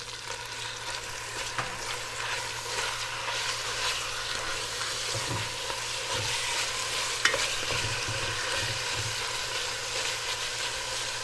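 Chicken mince frying and sizzling in a pan while being stirred, a steady, close hiss with occasional soft scrapes and knocks from the stirring, continuing for about eleven seconds without speech.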